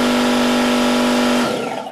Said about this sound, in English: Next to me is a standard air compressor, and this air compressor is at 90 decibels.